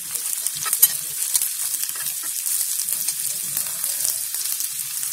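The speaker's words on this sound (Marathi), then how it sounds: "आपला कांदा आपला मस्त फ्राय झालाय." Onion and green chili fry in a pan for village-style bhendi masala, giving a soft, steady sizzle with light stirring scrapes, close and fairly quiet, with no talk.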